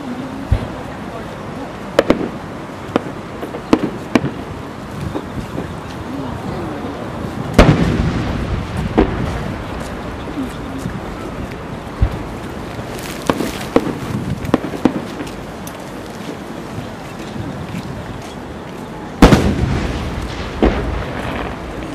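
Fireworks shells bursting at the 2008 Omagari national fireworks competition in Japan, with repeated loud booms and crackling bursts echoing across a wide outdoor field, scattered through a steady crowd murmur.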